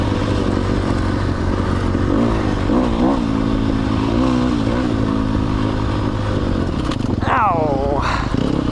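A Sherco 300 SEF dirt bike engine runs steadily throughout, rising and falling in pitch through several revs with a sharper climb near the end, close and loud, with some clatter and a person speaking over it.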